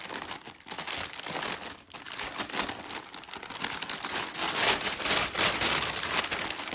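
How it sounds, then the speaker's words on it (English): Plastic packaging from an Advent sock set crinkles and crackles continuously as it is handled and opened up close, a dense rustling that rises and falls throughout with no speech. "Sorry for the crinkling, but it's part of the fun."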